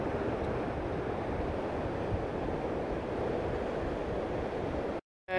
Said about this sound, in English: It's really windy around here.